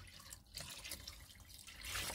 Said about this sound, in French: j'ai une méthode très à moi pour rincer les gamelles